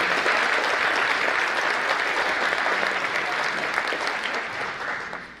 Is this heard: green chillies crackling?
no